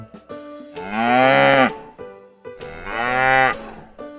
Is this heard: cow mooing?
yes